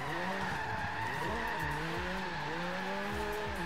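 A car in Forza Horizon 3 holds a drift, its tires squealing continuously over a strained, revving engine whose pitch rises and falls, loud and close with no talking.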